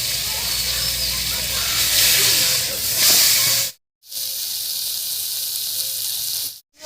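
Marinated boreli river fish fries with tomatoes in a hot kadai, giving a loud, steady hiss close by. The sizzle cuts out briefly twice.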